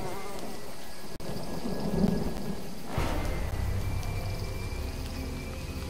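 Thunder rumbles with steady rain in a storm scene from Telltale's Jurassic Park, a single deep roll swelling near the middle over a continuous wash of rainfall and insect-like buzzing.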